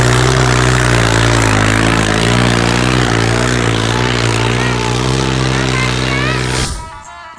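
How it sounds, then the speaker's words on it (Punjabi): A New Holland tractor engine runs hard at a tractor pulling contest, a loud sustained low rumble with wavering pitch that drops out abruptly near the end. "ਟਰੈਕਟਰ ਤਵੀਆਂ ਮੁਕਾਬਲਾ ਜੋੜਾਂ ਦੇ ਵਿੱਚ ਸਾਬਾ ਲੱਲੀਆਂ ਦਾ ਟਰੈਕਟਰ ਬਹੁਤ ਵਧੀਆ ਚੱਲ ਰਿਹਾ ਸੀ,"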